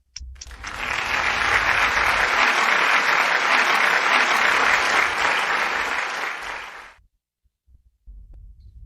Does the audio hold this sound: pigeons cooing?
no